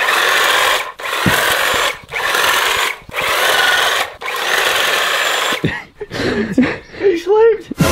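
A power hedge trimmer buzzes loudly and close while cutting back a garden hedge, running in repeated bursts of about a second with short pauses. The motor then cuts out, and people talk and exclaim.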